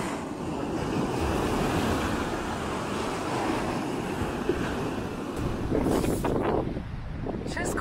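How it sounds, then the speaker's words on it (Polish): Strong wind roars steadily into the microphone, buffeting with broadband rumble throughout, with surf-like wash in the background and faint bursts of voices near the end. "jest taki wiatr, że nie wiem"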